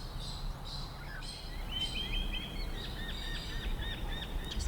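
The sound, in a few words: birds singing outdoors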